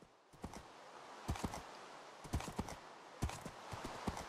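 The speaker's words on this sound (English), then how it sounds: "Yo, this horse is so fast!" Hooves of a fast horse in Minecraft, quick clusters of soft clip-clop impacts repeating in a steady galloping rhythm, fairly close and moderately quiet, with no voices.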